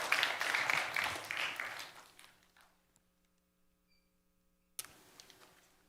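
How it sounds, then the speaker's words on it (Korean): A church youth congregation gives a send-off round of applause. It is loud at first, fades out over about two seconds into near silence, and then a brief burst of clapping returns. "우리 잘 다녀오라고 박수로 파송하도록 하겠습니다"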